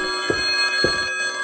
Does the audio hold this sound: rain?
no